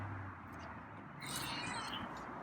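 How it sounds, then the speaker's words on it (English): A feral cat gives a soft, drawn-out meow, fairly faint, over a low background hum. "There's a meow."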